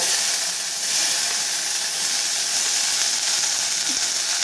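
Chopped onions hit hot oil with cumin seeds for a fish tamarind curry, giving a loud, continuous close-up sizzle and hiss that stays even throughout with no voices.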